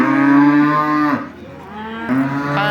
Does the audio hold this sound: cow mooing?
yes